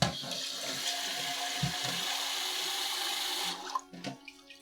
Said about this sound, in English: Gotta wash your rice.